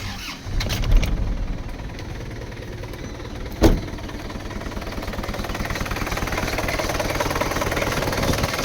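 An Isuzu D-Max 2.5 direct-injection turbo diesel pickup engine cranks and catches, then settles into a steady, clattering idle with a brief louder rev midway.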